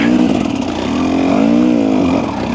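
Husqvarna TE300 two-stroke dirt bike engine lugging under load on slippery ground, a steady, loud, close drone with a rising and falling pitch as the rear tyre struggles for grip.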